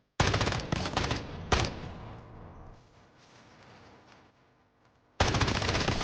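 Automatic gunfire in the shooter game Delta Force: loud rapid bursts at the start, a quieter stretch of fading echoes, then another sharp burst at the end.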